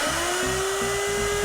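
A router with a NanoBlue 1/4-inch straight cut bit whines steadily at high speed while cutting wood, loud and alone.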